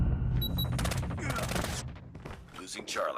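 Rapid bursts of gunfire in the Call of Duty Mobile video game, sharp overlapping shots crackling loudly in quick succession, with voices talking over the action.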